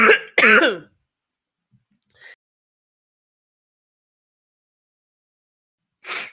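A person coughs and clears their throat, two sharp bursts close up, followed by a faint small cough and a later single throat sound, with near silence between.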